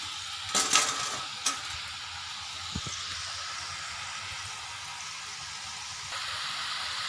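Ghee murukku frying in a pan of hot oil gives off a steady, even sizzle throughout, with a few light clinks of utensils near the start.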